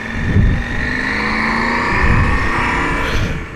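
A KTM 790 Adventure twin-cylinder motorcycle engine drones close up while riding, a steady, throaty hum with a slight rise and fall in pitch as the revs shift.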